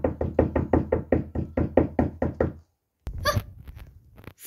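Rapid, loud knocking on a door at night: about a dozen quick, even raps in a steady run, then a pause and a few scuffling, rustling noises close by.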